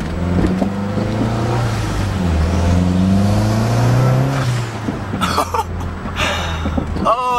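A Mazdaspeed3 with a Turbo XS blow-off valve venting to atmosphere: a steady, loud engine drone, then sharp airy whooshes and hissing bursts near the end as the valve dumps boost.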